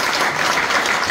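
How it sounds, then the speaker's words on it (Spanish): Applause from a church congregation at a Sunday service, a dense, steady wash of clapping that fills the whole short moment with no talk over it. "quiero que saludemos y le demos fuerte aplauso a Emanuel."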